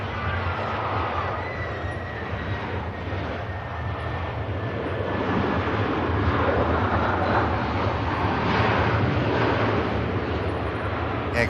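EasyJet airliner passing at Manchester Airport, a broad, steady engine roar that swells slightly toward the end, heard from a distance without talk.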